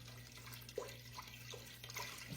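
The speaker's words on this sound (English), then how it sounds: "So the next thing is going to be chicken broth, and I did get the low sodium chicken broth. So I'm going to pour that in." Low sodium chicken broth pours from a carton into a cooking pot, a quiet, gurgling trickle with a few soft glugs over a low background hum.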